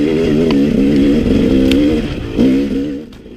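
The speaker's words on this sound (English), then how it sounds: "You can hear me getting the momentum back into the bike" A KTM 250XC dirt bike engine revs hard up a loose, rocky hill climb, loud and close, its two-stroke note rising and falling in bursts with a brief clatter and a dip near the end.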